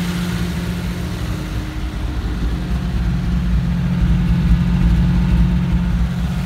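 An old BMW car engine runs steadily nearby, a low, rough idle hum with a slight rise in revs partway through, alone without talk.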